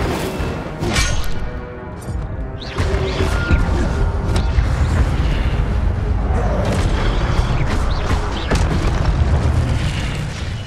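Repeated Incendio fire spell blasts in Hogwarts Legacy, a sustained loud roaring and booming barrage of fiery bursts and crashes with creaking mechanical game sounds mixed in.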